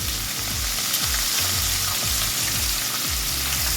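Small quail frying in a pan as they are turned, a loud dense sizzle throughout with rhythmic low thumps and shuffles of the pieces shifting, close and without speech.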